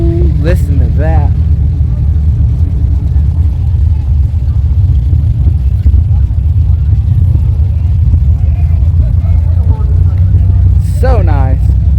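A 2017 Dodge Viper GTS ACR idles with a steady, loud low rumble throughout, while voices talk briefly near the start and again at the end.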